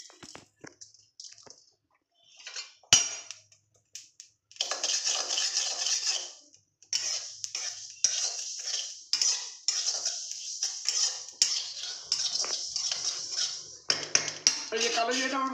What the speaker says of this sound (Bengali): কাঠখোলা ভেজে নিয়েছি, এখানে আমি কালো জিরে দিয়ে দিলাম